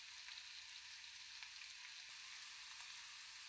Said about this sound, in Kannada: ಇದು ಸ್ವಲ್ಪ ಫ್ರೈ ಮಾಡ್ಕೋಬೇಕು. ಇವಾಗ ಒಂದು ಕ್ಯಾಪ್ಸಿಕಮ್ ಸೇರಿಸ್ಕೊತಿದ್ದೀನಿ